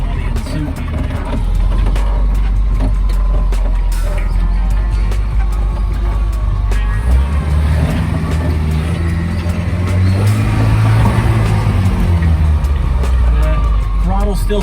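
An off-road vehicle's engine runs loud and close on a muddy, rocky trail with a sticking throttle, rumbling steadily and rising in pitch near the end, with people talking over it.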